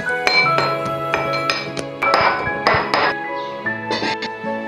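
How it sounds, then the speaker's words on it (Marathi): Garlic cloves crushed by hand for a patra vegetable dish, heard as a run of sharp, close knocks and clinks in an irregular rhythm. "लसूण थोडं ठेचून घेते मी"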